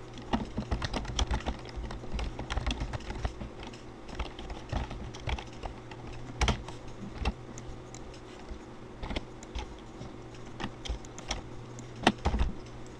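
Code being typed on a computer keyboard, a steady run of quick close key clicks with irregular bursts and brief pauses over a faint low hum, no voices.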